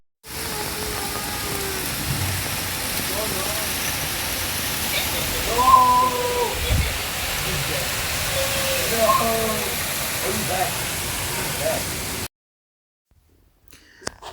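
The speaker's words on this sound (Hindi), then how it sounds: "ओए होए बारिश।" Steady heavy rain roars as a dense wash of noise, with a few faint voices and thumps beneath, then cuts to near silence at the end.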